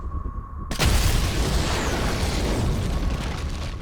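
Mines blow up in a war-themed video game: a sudden loud blast after a quiet start, then a sustained roaring rumble of explosion and debris that fills the rest of the moment without any talk.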